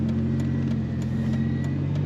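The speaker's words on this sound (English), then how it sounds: "A little bit of rumble out the back as a Mustang should have." A 1996 Ford Mustang convertible's exhaust gives a steady, moderately quiet low rumble at idle, even and smooth with faint ticking above it and no voices.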